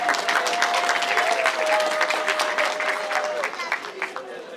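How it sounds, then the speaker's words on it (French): Sustained applause from a crowd, steady clapping throughout with a faint tone running beneath for most of it. "Est-ce qu'on peut applaudir pour les familles de Ndii?"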